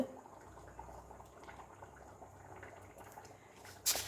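About a cup of cooking oil heats in a pan before mustard seeds go in, giving a faint, steady low bubbling and hiss with a brief sharper sound near the end.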